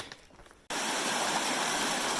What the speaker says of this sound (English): This creek is so cool. It's got little small waterfalls all over the place